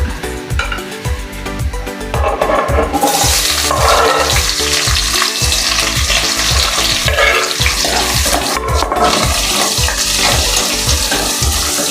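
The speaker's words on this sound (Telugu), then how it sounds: "అదే ఆయిల్లో ఇప్పుడు ఆనియన్ మిర్చి వేసుకోవాలి" Onions and green chillies fry in oil in a village-style kitchen, a loud, continuous close sizzle with stirring scrapes and background music underneath.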